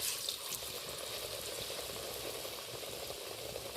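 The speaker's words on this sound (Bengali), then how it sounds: "এই দেখুন তেলটাও বেশ গরম হয়ে গেছে এই পর্যায়ে আমি এইভাবে একটু মুছে তেলের মধ্যে ছেড়ে দেবো" Battered pumpkin flower pakoras frying in hot oil give a steady, dense sizzle and bubbling that holds evenly throughout, close and continuous with no voices.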